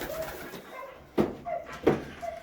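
White homer pigeons coo softly in a breeding loft, with low murmuring calls and two sharper knocks or wing thumps cutting through a quiet background.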